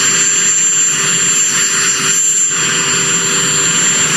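A helicopter's turbines run loudly and close in a steady, high-pitched whine over constant engine roar, with no talk.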